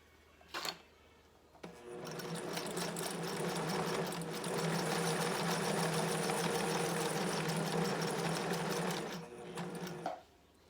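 A sewing machine stitching a fabric face mask runs in one continuous whirring, rattling burst of about seven seconds, close and loud, with brief mechanical clicks before and after.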